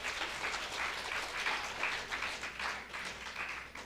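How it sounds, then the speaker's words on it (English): Audience applause at an International Students' Day celebration, a steady wash of many hands clapping that holds evenly throughout with no voices. "please give her a big round of applause"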